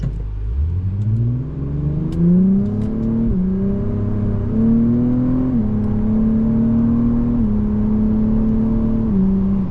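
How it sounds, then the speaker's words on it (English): A 2025 Acura TLX Type S engine, brand new, revs up steadily, drops in pitch at each of several early gear shifts below 5,000 rpm, then climbs again; loud and close with no talking. "we're going to shift early because this is a brand new engine"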